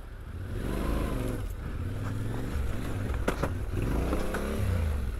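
Yamaha Tenere 700 adventure motorcycle picking its way down a slippery riverbed, engine chugging at low revs with a steady, close rumble and occasional surges, plus scattered knocks and splashes from the terrain.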